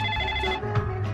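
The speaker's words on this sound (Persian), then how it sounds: "اون تلفنم جواب بده" A telephone ringing indoors in a comedy film scene, a steady electronic ringtone tone held briefly and fairly loud, with no talk over it.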